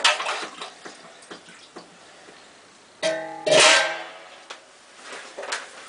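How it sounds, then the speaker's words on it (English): Wort being stirred in a homebrew fermenter, sloshing and swirling water with a few sharper splashy bursts and knocks against the vessel, close and without talk. "But as you can see, you stir for about a minute"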